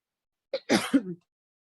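A short burst of coughing, two or three quick harsh coughs close to the microphone, then silence.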